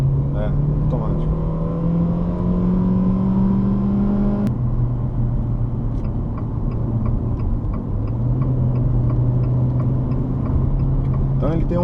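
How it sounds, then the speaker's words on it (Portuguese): A Fiat Argo 2018 1.8 automatic hums steadily from inside the cabin on a test drive. The engine tone climbs until a sudden shift drops it, then it settles into a constant drone, with faint voices underneath. "Então ele tem um motor e-torque Evo, que chama"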